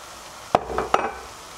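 Courgette tagliatelle drops into a pan of vegetables, two or three quick close thuds and clatters followed by a brief soft sizzle, all within a moment and otherwise quiet.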